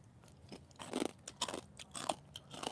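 Hard, crisp food crunched between the teeth in close, loud bites, several sharp crunches spaced irregularly with quiet chewing between, no talking.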